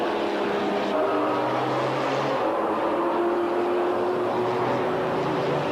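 A Corvette GT race car at Monza in 1995, its engine drone steady and distant amid broad track noise, a continuous roar with no talk over it.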